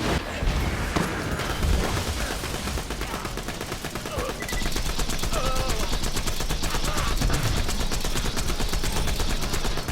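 Rapid, dense gunfire from the Hector's Paradise weapon in Borderlands: The Handsome Collection crackles in fast bursts, loud and close, with electric zaps mixed in.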